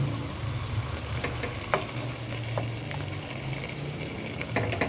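Potatoes cook with fenugreek in a covered pot for methi aloo sabzi, sizzling and bubbling steadily up close. Occasional scraping clicks come from a spoon checking and stirring them, with no talking.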